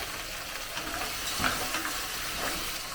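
Mushrooms and tomato sizzling in a pan for a mussel oil pasta, a steady bright sizzle with stirring scrapes and a brief louder hiss midway, close and unbroken, no talk.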